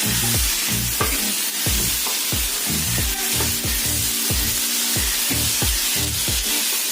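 Ivy gourd (kovakkai) fries in a pan with masala and is stirred, giving a continuous close sizzle broken by a steady, repeated scraping rhythm from the spoon. No one speaks.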